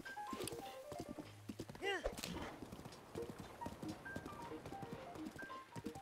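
A horse running along a road in The Legend of Zelda: Breath of the Wild, its steady clip-clopping hooves continuous throughout with a brief whinny, mixed under game sounds and a person talking.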